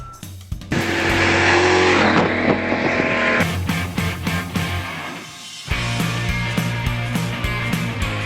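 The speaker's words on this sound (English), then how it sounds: "you get to hear the exhaust roaring and then that muscle feel" A loud, deep exhaust roar from a Shelby Mustang GT500, revving hard and surging through gear changes, close and dominant throughout.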